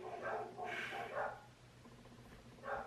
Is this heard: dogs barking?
yes